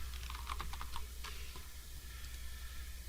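Quick, faint key presses on a computer keyboard tap out a short burst of typing, a rapid cluster of clicks followed by a few scattered strokes over low background hum.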